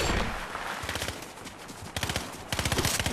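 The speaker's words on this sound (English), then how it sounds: "they're shooting, so be careful" Fortnite gunfire: rapid automatic bursts rattle off in quick, evenly spaced shots, with a loud opening stretch, a short lull, then two more sharp bursts close by.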